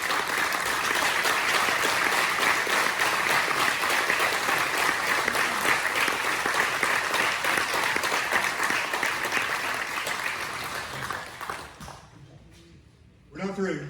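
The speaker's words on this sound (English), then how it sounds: "Let's give a great applause for all 3 of our candidates." Audience at a political primary candidate forum in Texas applauds the candidates, sustained loud clapping for about twelve seconds before it thins out and fades, with a few voices after.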